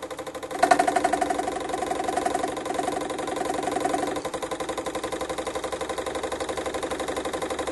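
A generator rotor spinning during a shorting coil test gives a steady, fast-pulsing mechanical drone, loud and close, with a brief rise in pitch near the start and a continuous rhythmic throb throughout.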